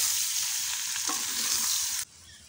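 Raw mango pieces stirred in a pan for pickle give a steady hiss with a single scraping stroke midway, then the sound cuts off abruptly, with no voices.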